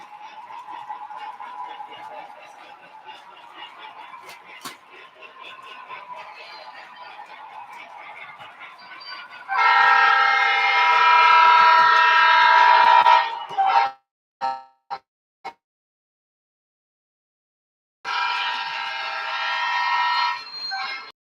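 An E33 rectifier electric locomotive sounds its horn in two loud, sustained blasts, the first about four seconds long followed by short stuttering toots, then a second long blast after a pause, over a quieter, steady rumble of the approaching train.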